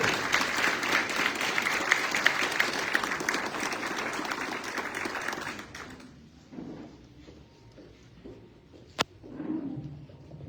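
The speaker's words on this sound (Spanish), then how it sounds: "recibamos con un cálido aplauso al senador de la República, Heriberto Aguilar Castillo" An audience at a senator's legislative report event in Nacozari de García applauds loudly and steadily for about six seconds, then the clapping fades into scattered claps, a sharp knock and faint murmuring.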